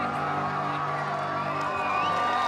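At the 2016 Cannes red carpet for Money Monster, a large crowd cheers and whoops for George Clooney with a steady roar of voices and occasional shrill shouts. A commentator talks over the noise.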